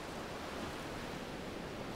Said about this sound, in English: A little stream, reaching the edge of the grassland above the beach, forms a little waterfall